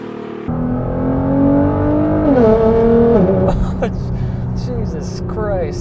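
A tuned Nissan GTR with a 3.5-liter twin turbo V6 accelerates hard from inside the car, the loud engine note climbing steadily through the revs before easing off, with people talking and reacting over it.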